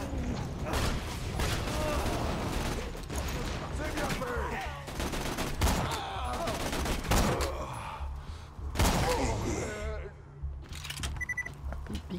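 Gunfire aimed at a sniper in Borderlands 2 co-op play: dense, continuous bursts of shots and mechanical clatter layered with game effects, loud throughout, with sharp individual cracks standing out near the middle.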